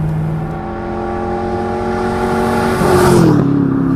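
A Ford GT40's detuned 4.7-litre V8 drones steadily at close range as the car drives, the engine note rising with a throttle surge near the end, with no one speaking.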